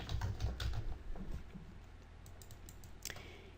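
Typing on a computer keyboard, quiet clusters of key clicks that are busier at first, then sparse taps and a final few presses, close and soft.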